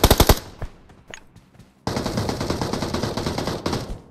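Gunfire in the mobile game PUBG Mobile: a quick burst of close shots, a few scattered single cracks, then a sustained rattling automatic volley.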